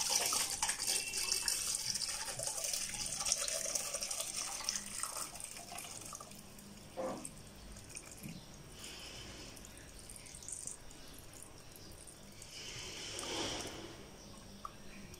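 Carob juice is poured through a clean cloth strainer into a pot, making a steady splashing trickle that thins and fades, followed by softer drips and brief handling noises.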